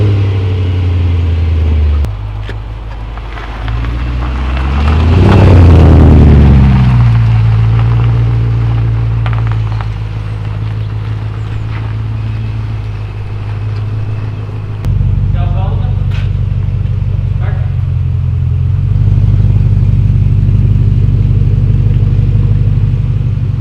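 BMW E38 740i V8 engine idling and revving, a deep steady rumble that swells briefly in a rev and then settles back to a low idle, heard close up.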